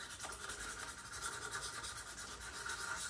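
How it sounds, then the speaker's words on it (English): Small sharpening stones rub back and forth across the metal blade of a wooden spokeshave, giving a faint, steady gritty scraping in short repeated strokes, with no voices. "just moving these little stones back and forth across here, keeping this flat"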